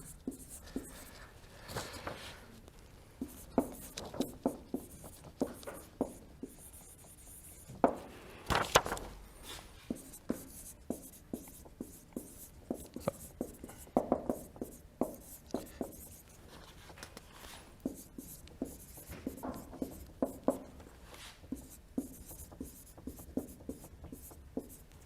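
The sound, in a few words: writing on a board during a lecture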